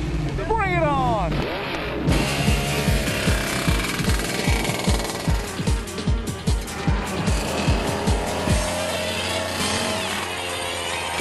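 Racing karts roar past on a track, their engines buzzing and pulsing loudly in a rapid rhythmic stutter, with a voice talking briefly at the start.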